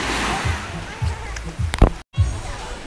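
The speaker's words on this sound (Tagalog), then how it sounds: "O konti lang yung alon." Small, gentle sea waves lap at a sheltered beach in Tukuran, Zamboanga del Sur, making soft rhythmic sloshes and splashes about every half second over a steady watery wash, close to the listener.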